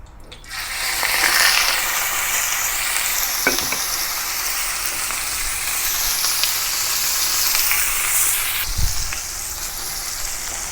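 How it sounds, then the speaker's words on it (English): Beef laid on a hot oiled grill pan sizzles loudly and continuously, with a couple of brief clicks and knocks from the pan. "Heat some oil on the grill pan. When it is heated, put the beef on it."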